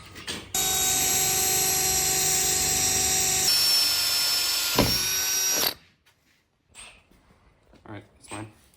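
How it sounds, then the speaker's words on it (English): A power drill drives a self-tapping screw into the roof of an abandoned 1957 Chevy wagon, a loud steady whine for about five seconds that shifts pitch partway, then stops, followed by faint knocks and handling. "Probably just self-tapper it to the roof."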